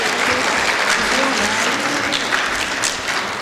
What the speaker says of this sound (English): So could we have a round of applause for those staff?